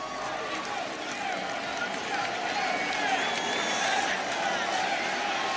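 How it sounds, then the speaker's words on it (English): A preseason NFL stadium crowd at a Kansas City Chiefs versus Chicago Bears game roars steadily in a dense, sustained wash of cheering and noise, with a commentator's voice faint within it. "The Bears sideline imploring the crowd to make some noise here"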